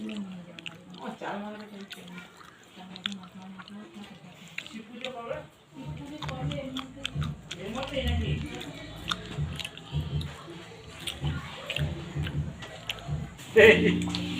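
Close chewing and biting while eating prasad at a Saraswati Puja gathering in a home, soft wet mouth sounds coming in bursts, with people talking nearby and a brief louder clatter near the end.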